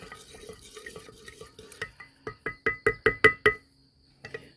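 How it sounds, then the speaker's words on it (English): A spoon stirs sugar into a mixture in a bowl, making a close run of sharp clinks and knocks against the side that speed up into a quick rhythmic burst, then two softer taps, with no talking. "Get that stirred up a little bit. Doesn't take too much to dissolve that sugar."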